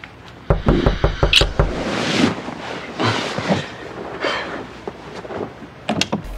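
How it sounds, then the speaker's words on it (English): A series of quick, loud knocks on a door in a TV episode, a rapid cluster at first, then rustling and scattered thumps, ending with another pair of sharp knocks. "someone's just knocked on the door"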